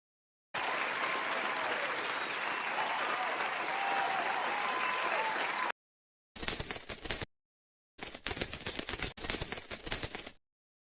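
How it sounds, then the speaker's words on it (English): An applause sound effect triggered by a button during a live stream, a burst of crowd clapping and cheering that plays, cuts off, then replays in short choppy bursts with gaps of silence. "Do y'all hear the round of applause when I press it?"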